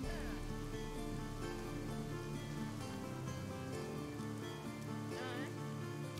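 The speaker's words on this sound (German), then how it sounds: "Gott, der Regen, man sieht ja fast nichts." Rain in the video game Northgard falls as a steady, soft patter across the whole stretch, faint and continuous with a faint tonal music bed underneath.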